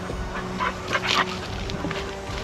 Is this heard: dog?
yes